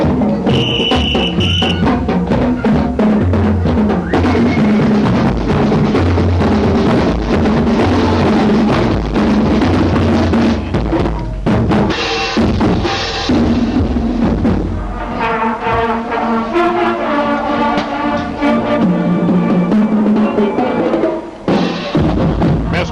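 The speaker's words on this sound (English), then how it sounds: "Here comes another one of our bands. Let's do a little listening right now." Marching band in blue, gold and white uniforms passing in the 1992 Ontonagon Labor Day parade, brass melody and percussion playing continuously outdoors, loud and close with crowd noise mixed in.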